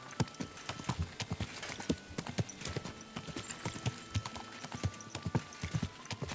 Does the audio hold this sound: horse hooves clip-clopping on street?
yes